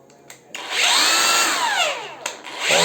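A JCB cordless angle grinder on battery power spins up with a loud, steady whine that holds for about two seconds, drops briefly, then winds up again, with no talk over it.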